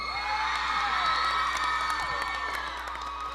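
A live audience at a college Mr RWU pageant erupts in sustained cheering, whoops and shouts over clapping, loud and continuous throughout, with crowd noise filling the room.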